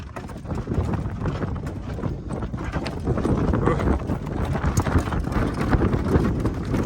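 Percheron horse hooves clip-clopping steadily on the move under strong wind buffeting the microphone, with faint voices now and then.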